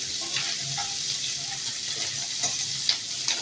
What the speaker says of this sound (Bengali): এই পেঁয়াজ কুচিগুলোকে দিয়ে ভালো ভাজবো